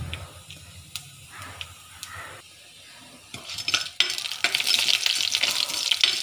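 Urad dal frying in hot oil in a pan for a Kerala-style leaf dish, with soft scraping stirs and clinks early, then a loud, steady sizzle and hiss building up and filling the second half.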